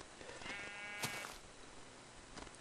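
A farm animal in the Minecraft video game gives a bleating, moo-like call from nearby, heard over steady low in-game background noise, with a second fainter call near the end.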